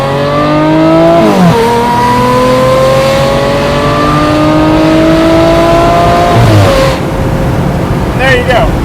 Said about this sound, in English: I'm gonna go ahead and give it the beans for you guys so you can check out what this car sounds like at full song